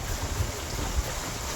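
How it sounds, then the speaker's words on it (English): Wind-whipped waves slap and churn against a boat on the Trent Severn Waterway under a headwind, a loud, close, continuous wash with gusty low rumble and occasional thumps, no speech. "this wind is whipping up waves, not whitecaps or anything like that"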